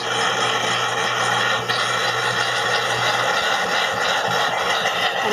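A clogged sink drain builds pressure during a toxic-free unclogging with steam, giving a loud, continuous hissing rumble with faint rattles, heard alone without talk.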